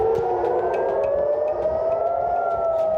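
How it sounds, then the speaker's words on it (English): Air raid sirens in Haifa, Israel, wail steadily in the distance, rising slowly in pitch, with faint crackling background noise and no talking. "sirens sounded in Haifa"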